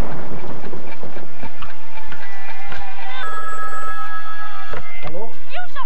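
On a Brazilian television broadcast, a telephone rings with a bright electronic trill that lasts about a second and a half, set among louder knocks, thumps and other broadcast sounds.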